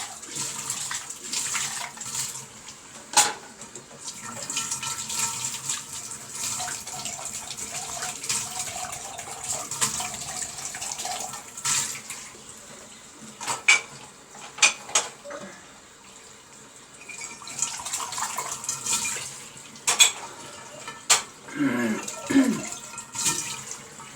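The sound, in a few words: washing dishes in sink with running water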